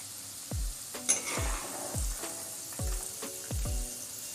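Peanuts frying in oil for poha chiwda and stirred now and then, a soft steady sizzle broken by about six clear scrapes and clinks of a spoon against the pan, close and fairly quiet.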